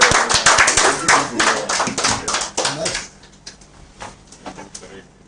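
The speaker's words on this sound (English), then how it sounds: "Let's clap for Comrade again." An audience on a talk show claps for a guest, a loud burst of close hand clapping for about three seconds that thins out into a few scattered claps and taps, with voices beneath.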